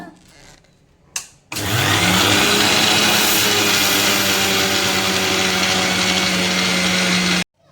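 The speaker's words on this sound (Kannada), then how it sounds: "ನಾನು ಇದನ್ನ ಮಿಕ್ಸಿ ಮಾಡ್ತಾ ಇದ್ದೀನಿ ಈಗ" After a few quiet knocks, a mixer grinder grinding sugar and cardamom starts with a loud, steady whirring roar that runs for several seconds and then cuts off abruptly.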